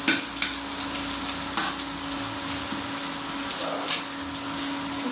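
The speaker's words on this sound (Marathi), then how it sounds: "सो आपला कांदा परतत आहे" Onion sautéing in a pan, a steady close sizzle with scraping stirs and a few sharper clatters of the spoon against the pan, with no voices.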